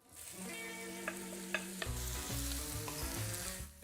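Raw cured ham browning in extra virgin olive oil in a warm casserole: a quiet, continuous sizzle with a few spatula taps and stirring knocks, no speech.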